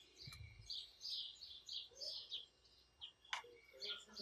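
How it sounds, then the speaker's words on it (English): Several birds chirp and tweet outdoors at a lakeside, short bright calls repeating throughout at moderate distance, with a faint low rustle beneath. "Listen to the birds"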